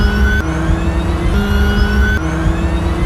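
An electric race car from a Cars 3 trailer, a smooth rising whir with steady tones that shifts up in steps as it accelerates, loud and close without engine rumble.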